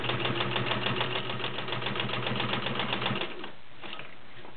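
A Kenmore model 1601 sewing machine stitches through six layers of Levi's denim with a size 16 needle, a loud, steady rapid mechanical chatter with a low motor hum, running continuously for about three seconds before stopping.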